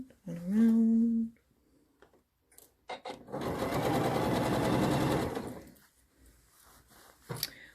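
Domestic sewing machine stitching sleeves onto hospital scrubs, a steady mechanical whirring run of a couple of seconds between short bursts, quiet handling clicks and a brief voice.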